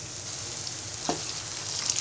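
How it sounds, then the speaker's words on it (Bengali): Homemade noodle pakoras frying in hot oil give a steady, close bubbling hiss, with one brief soft knock partway through; no talking. "এবার ব্রাউন কালার করে নুডলস পাকোড়াগুলো ভেজে নিব।"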